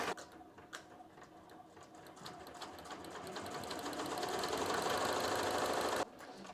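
Ricoma embroidery machine stitching an applique tack-down, a rapid steady needle chatter that grows louder and denser before stopping abruptly near the end, close by with no talking.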